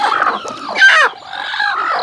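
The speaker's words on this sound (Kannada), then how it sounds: "ಪ್ಯೂರ್ ನಾಟಿ ಕೋಳಿ" Native country chickens on a small backyard poultry farm cluck and squawk in a close, busy chorus, with one louder, sharper burst in the middle and no voices.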